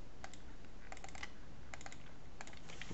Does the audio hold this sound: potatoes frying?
no